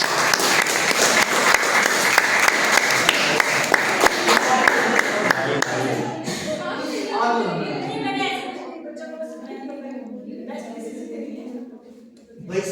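Audience applause at a school farewell event, a dense crowd clapping loudly for about six seconds before thinning into scattered claps under voices and chatter.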